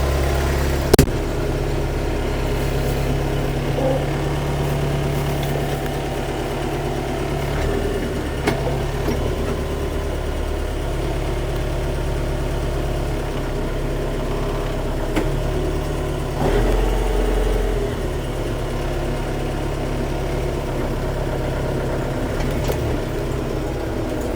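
A Scout TY404 mini tractor engine runs steadily during a test drive, a loud, constant low diesel drone with slight changes in load and a few knocks, close to the listener and without talk.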